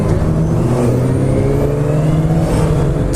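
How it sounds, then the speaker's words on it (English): A fancy car's engine drones loudly in traffic, with a steady rising rev and dense road noise close by and no voices. "It's a fancy car you got there,"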